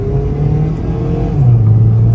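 A Honda Civic FB with a 1.8-litre R-series i-VTEC engine hums steadily from close by with a soft, smooth exhaust note. The pitch shifts lower partway through and then holds.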